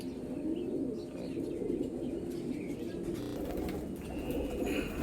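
Golden-eyed pattā pigeons coo in a low, continuous murmur, several birds overlapping close by, with a few faint chirps above the steady cooing.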